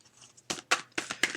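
Several short crisp riffling bursts in quick succession, close and fairly quiet, like a deck of cards being shuffled with no talking.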